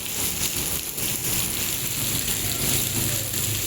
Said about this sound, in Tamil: மழை பெய்து கொண்டே இருக்குது